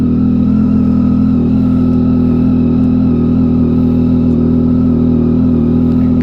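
A motorcycle engine, recently refitted with its ECU, runs at a steady idle, loud and close, with an even rumble and no clear revs.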